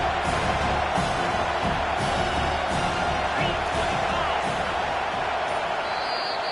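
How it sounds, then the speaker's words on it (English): Stadium crowd at a USC versus Arkansas college football game roars in a steady, dense wall of cheering that holds loud throughout, with scattered whoops rising above it. "This crowd rising up, sensing that its defense needs some help."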